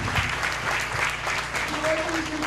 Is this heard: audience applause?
yes